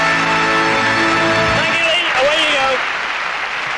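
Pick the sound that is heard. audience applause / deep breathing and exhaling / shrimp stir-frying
audience applause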